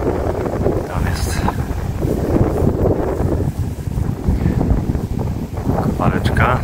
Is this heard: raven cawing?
no